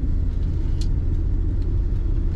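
A 1978 Ford Pinto Wagon engine running at a smooth, steady idle, giving a continuous low rumble with a few faint ticks and no voices.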